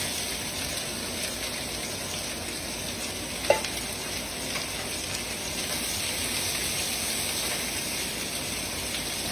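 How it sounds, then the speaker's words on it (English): Vegetables stir-frying in a tablespoon of sesame oil in a skillet for Thai basil chicken, a steady close hiss of frying with one brief clatter partway through. "Now into that same skillet, add you 1 tablespoon of sesame oil. Put those veggies in there."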